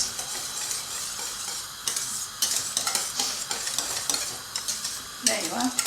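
Parmesan is mixed into lasagna sauce in a pan, a steady bright sizzle layered with rapid, repeated spoon scrapes and clicks that build toward the end, close-up with no voices.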